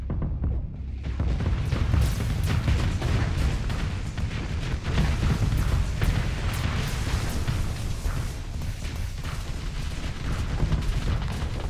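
Continuous heavy bombardment of a star fortress in the space combat game Starsector, a dense low rumble of booms and blasts running loud and steady throughout with no pause.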